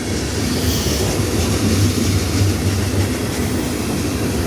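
A long freight train rolls past close by in a constant loud rumble. Wheels clatter steadily on the rails throughout, with no voices.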